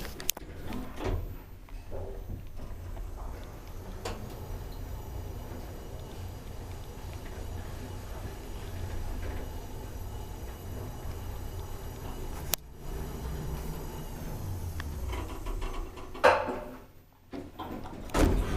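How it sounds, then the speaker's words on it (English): Door of an old Kone traction elevator closing quickly, a low rumbling slide with clunks near the end, heard close up in a quiet lift car without talk. "The door closes quite quickly."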